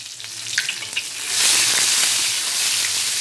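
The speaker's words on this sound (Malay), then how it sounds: "Kita tumis sehingga naik bau, ya." Spice paste ingredients for beef bone curry hit hot oil, a few light clicks and drops giving way to a loud, steady, close hiss of frying that holds to the end, with no one talking.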